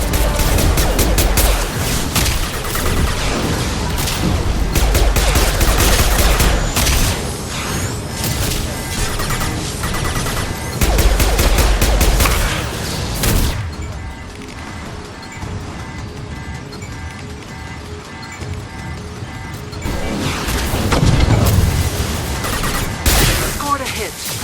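Heavy weapons fire in a video game, loud sustained bursts of gunfire and crashing impacts with brief lulls, game effects filling the scene.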